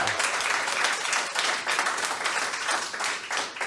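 A studio audience gives a full, bright round of applause for Dr Sam Chan, a continuous close wash of many hands clapping with no break, alone and fairly loud.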